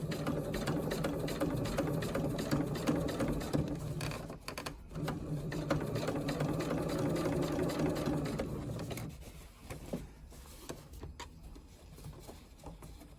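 A sewing machine top stitching across thick fabric runs in a steady close mechanical whir, briefly catching and stuttering midway, then slowing into sparse clicks and light handling sounds near the end, with no speech.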